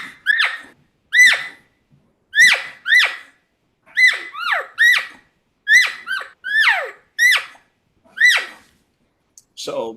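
A hunter mimics an excited elk calf with a call, giving rapid high-pitched squealing chirps in doubles and triples, loud and close, repeated steadily with short gaps between bursts.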